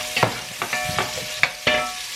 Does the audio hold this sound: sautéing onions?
yes